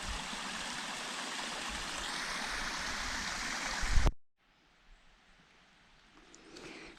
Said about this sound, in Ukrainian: Чарівний лісовий струмочок.